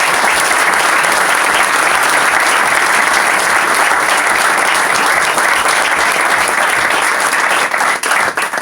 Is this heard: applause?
yes